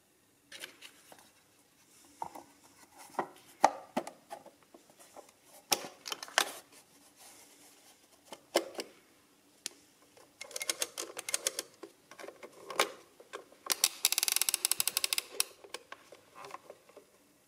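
Kohner Easy Adder mechanical adding machine being worked by hand, sharp plastic clicks and ratcheting clatters in irregular bursts with quiet gaps, close and crisp, ending in a quick rapid run of clicks.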